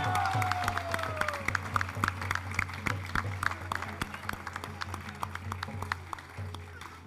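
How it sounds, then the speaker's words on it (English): A gathering applauds a priest at a devotional event, scattered claps from a modest crowd with a few sharp nearby hits, under a low steady hum and a brief gliding tone near the start. "A big round of applause of blessings for the priest, everyone, please."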